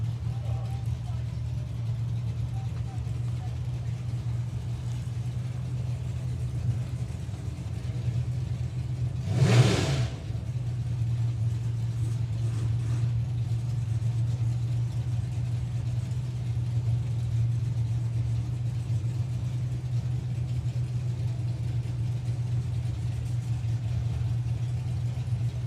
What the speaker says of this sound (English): As another one of our Gas and Circus races comes back round.